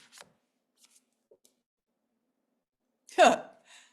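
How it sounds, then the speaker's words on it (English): A quick riffle of cards being shuffled, one brief crisp burst after near silence and a few faint taps. "let me just quickly do a little shuffle here and pick a yellow card"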